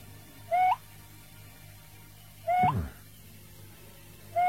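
Three owl hoots, each a short rising tonal call, spaced a couple of seconds apart over a quiet background with a low steady hum.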